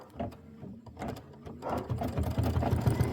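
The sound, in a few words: embroidery machine stitching down fringe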